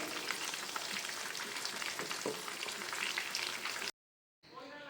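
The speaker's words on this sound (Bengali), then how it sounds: "তো আজকের চিকেন চাপটি ফ্রাই করতে করতে ছোট্ট একটা টিপস শেয়ার করছি।" Chicken chaap pieces fry in moderately hot oil, a dense, even crackling sizzle held close and loud for about four seconds before breaking off into a brief silence.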